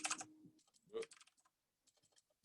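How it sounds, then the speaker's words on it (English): Clattering keystrokes on a computer keyboard during a programming lesson, a couple of quick close bursts of typing followed by a few sparse, faint taps, with no talk. "Wow, typing is hard today."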